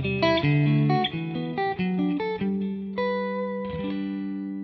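A clean electric guitar played through a Matchless amp picks out a short melodic phrase of ringing, sustained notes with clear attacks, loud and close, with no voices.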